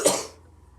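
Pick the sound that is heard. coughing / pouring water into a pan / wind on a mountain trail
coughing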